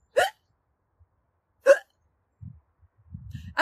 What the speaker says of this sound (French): Le hoquet, c'est un trouble de l'innervation du diaphragme qui va le contracter subitement sur une inspiration et ça va faire un petit bruit au niveau des cordes vocales